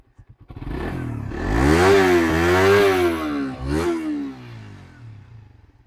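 A Suzuki GSX-R motorcycle engine runs close and loud, revving up smoothly from a sputtering start, holding a strong rising and falling drone, then easing back toward idle.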